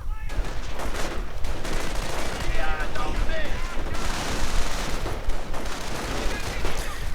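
Dense, continuous rifle and machine-gun fire crackles through a video game battle between riflemen and grenadiers, with overlapping shots and bursts at close to mid range and no pauses.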